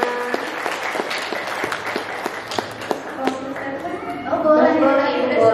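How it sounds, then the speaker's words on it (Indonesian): Audience applause at an Indonesian parenting seminar, steady clapping from a crowd in a hall with a voice over a loudspeaker on top, swelling louder near the end. "beri tepuk tangan untuk Bu Lina dan Mbak Dedi."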